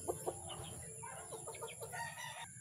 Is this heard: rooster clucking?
yes